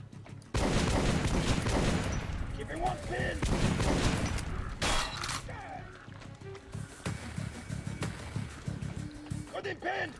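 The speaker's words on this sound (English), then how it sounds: "I have incendiary ammo" Shotgun blasts firing incendiary rounds in Metro Last Light Redux, loud close shots followed by crackling and fiery bursts, then quieter scattered shots, with someone talking over some of it.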